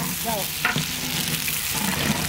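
Buffalo tongue frying in a pan with spices, chopped onion and bay leaf, a steady close sizzle with occasional stirring clatter and no talk.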